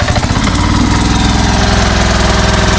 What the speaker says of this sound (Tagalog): Si Kuya Jojo nagpa-andar o generator.